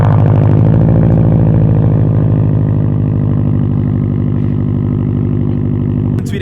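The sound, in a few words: Subaru STI aftermarket exhaust sound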